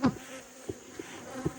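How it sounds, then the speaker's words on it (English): Honey bees buzzing around an open hive during an inspection, a steady close drone with brief soft taps and bumps. "there's quite a few bees here. They might be pissed"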